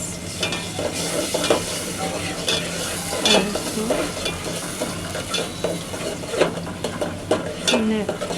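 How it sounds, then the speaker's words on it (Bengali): Bottle gourd curry with green chili stirred in a frying pan, a steady sizzle under repeated scraping and clinking strokes of the spoon, close and moderately loud with no talking. "নেড়ে দিলাম"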